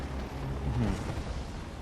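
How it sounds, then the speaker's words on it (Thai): A deep, rumbling explosion from the real-time strategy game Command & Conquer 3: Kane's Wrath rolls on as a sustained low boom that fades slightly, with no voices over it. "แล้วก็ระเบิดตู้มเรียบร้อยนะ"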